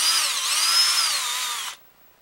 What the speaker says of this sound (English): and you're going to countersink it